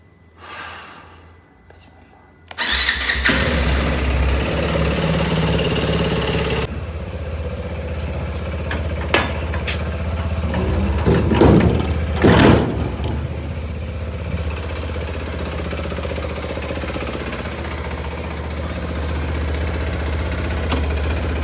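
A TVS RTX 300 motorcycle engine fires up after a quiet start and settles into a steady, close idle with a low rumble, some revving bursts around the middle, and someone talking over it.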